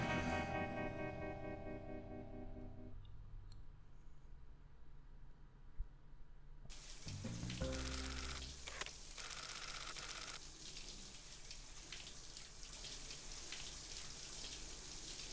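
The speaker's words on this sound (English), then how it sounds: "Ah yes, the old shower with your hairband on and all your makeup." A shower runs in the No One Lives Forever video game: a steady hiss of spraying water that bursts in loudly partway through and keeps pouring over fading background music.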